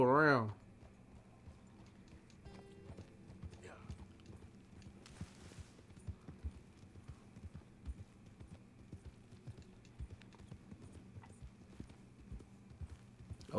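A horse's hooves clip-clop softly across terrain in the Red Dead Redemption 2 video game, making an irregular stream of light thuds under low hum with faint background game sounds.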